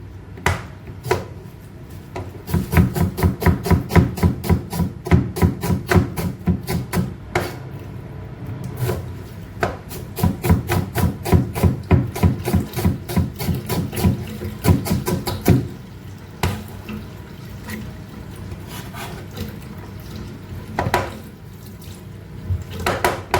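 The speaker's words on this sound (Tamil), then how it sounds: "வெங்காயம் வெட்டிக்கலாம்." Onions are chopped with a knife in a home kitchen in Salalah, Oman, for a dried-fish fry. Rapid, close, rhythmic cuts come in long bursts with short pauses between them.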